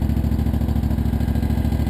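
A tractor engine revved to 2,600 RPM runs as a close, loud, steady drone with a fast regular pulsing throb and no change in speed across the short stretch.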